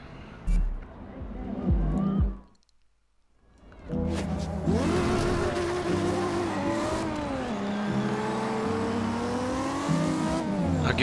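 A Furious 7 pack car in the Forza Horizon 2 racing game revs and accelerates hard, with rising and falling engine pitch through gear changes, tire squeal, and a brief quiet gap near the start before the engine roars back continuously.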